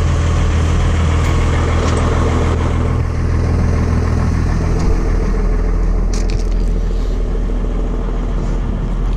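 A CAT 259D compact track loader idles while warming up, a loud, steady low diesel rumble with faint rattles and a few brief clanks near the end.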